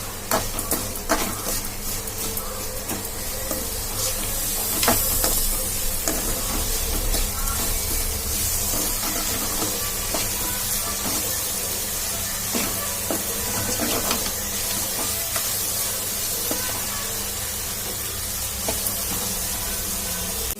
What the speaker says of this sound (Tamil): வெங்காயம், தக்காளி, வெங்காயத்தோட உப்பு போட்டு வதக்கினா சீக்கிரம் நல்லா வதங்கிடும்.